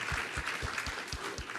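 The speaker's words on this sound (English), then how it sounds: "Let's give that a round of applause." Applause from the audience at a Department of Health and Human Services Hispanic health summit, a quiet steady wash of clapping with a regular low thumping beneath it.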